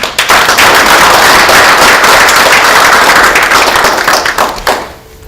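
Loud, dense applause from a conference audience welcoming an economics speaker to the stage, a steady wash of many hands clapping for about five seconds before tapering off.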